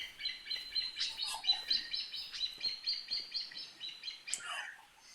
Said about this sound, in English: I'm hearing chirping.